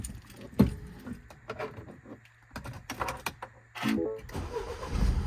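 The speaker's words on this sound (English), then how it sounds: "so I'm just going to start the engine up." A 2014 Mini Paceman Cooper S is started from inside the cabin: a few clicks and key-like jingles, then a short starter whir and the engine catching into a steady, moderately loud idle hum.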